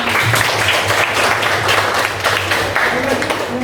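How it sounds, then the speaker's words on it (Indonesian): A class of teacher trainees in an Islamic education session claps briefly, a steady patter of hands at moderate level with a low hum underneath and faint voices among the clapping. "Tepuk tangan."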